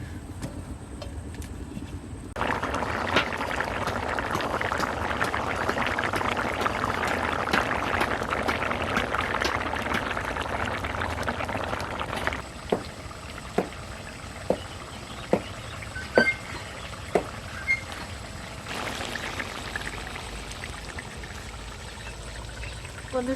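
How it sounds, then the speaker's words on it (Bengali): Egg and eggplant curry bubbling under a lid, a steady hiss of simmering with a run of sharp pops and taps through the middle. "ডিম বেগুন দিয়ে এবার ঢাকনা দিয়ে ভালো করে জ্বালিয়ে নেব 10 মিনিটের মতো।"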